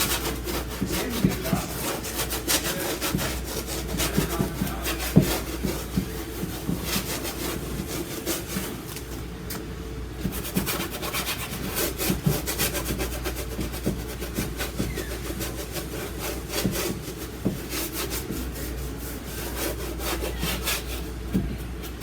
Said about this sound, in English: I'm actually painting with the side of my brush